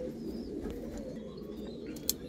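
Pigeons of the golden-eye and blue-eye lines coo softly and continuously in a low murmur, close by, with a brief sharp click near the end.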